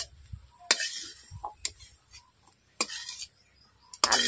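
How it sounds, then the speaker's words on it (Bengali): A spoon scrapes and clinks against a metal kadai while stirring potato filling cooked in mustard oil, giving several sharp, scattered knocks with quiet gaps between them and no voices. "কড়াইয়ের মধ্যে আলু পুরটাকে তৈরি করে নিচ্ছি"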